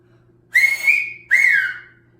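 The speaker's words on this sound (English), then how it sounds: "being able to whistle with your fingers" Two loud, piercing finger whistles, the first rising slightly and holding, the second starting high and sliding down, close and alone.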